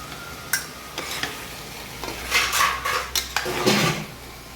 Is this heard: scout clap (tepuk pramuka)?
no